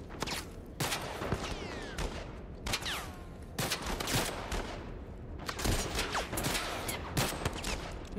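Gunfire from a gun in The Last of Us Part II video game: repeated sharp shots ring out in irregular bursts, several cracks clustered close together, loud and near, each followed by short echoing tails.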